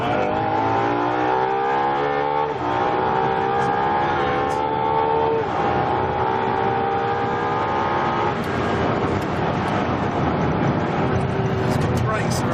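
A Ferrari's exhaust roars at about 342 km/h, a loud, sustained high-speed engine drone with rising pitch as the revs climb and gear changes interrupt it, while voices talk over it.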